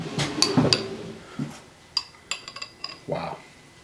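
Spoons and cutlery clink in quick, scattered metallic taps as they are grabbed from a kitchen drawer, close and clear, with a few soft handling thumps between the bright chinks.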